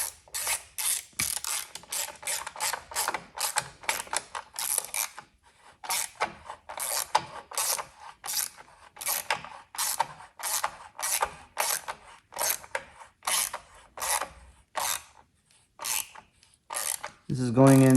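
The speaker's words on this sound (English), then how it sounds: "we will now just put the screw for the retaining" A hand ratchet drives the screw for a battery retaining bracket on a Sport Chief, clicking in rapid, even strokes, close and steady, with brief pauses between runs of turns.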